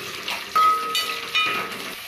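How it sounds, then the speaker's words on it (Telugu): Tempering seeds, green chillies and onions fry in hot oil for a ridge gourd and chana dal curry, giving a steady close sizzle with two louder surges as more goes into the pan, and no talking. "కొంచెం ఆయిల్ ఇలాంటి పచ్చిమిర్చి, ఆనియన్స్ ఒకేసారి వేసుకోండి. పోపు గింజలు కొంచెం ఫ్రై అవ్వాలి."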